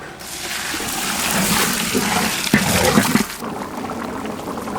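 Water is poured in a continuous stream into a pot of cut vegetables such as beans and gourd with ground turmeric and rock salt, splashing and sloshing up close before tapering off.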